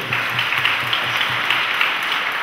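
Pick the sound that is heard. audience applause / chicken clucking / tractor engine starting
audience applause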